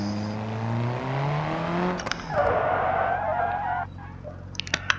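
Rally car in the BeamNG.drive video game braking hard. An engine note drops away, then a sustained tire screech follows, ending with a few sharp clicks. No voices are heard.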